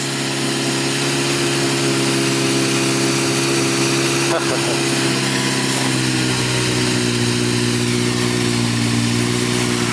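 A steady, continuous engine idle hums throughout, a constant mid-pitched drone with faint mechanical rattles and no clear changes.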